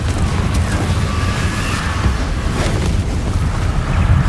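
A Confringo spell explosion in the Hogwarts Legacy video game, a loud, sustained, rumbling roar of blast noise that holds steady throughout with no pause.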